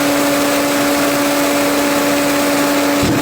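A torpedo heater running with fuel spraying and the igniter sparking: a loud, steady roaring whoosh with a constant mechanical hum throughout, and a brief thump near the end.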